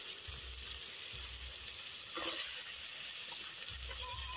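Chopped tomato frying in a pan with onion and ginger-garlic paste, giving a soft, steady sizzle at close range with a few low bumps of stirring, and no voices.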